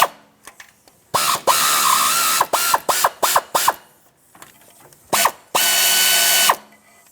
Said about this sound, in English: I'm just going to switch to my air ratchet, make things go a little faster.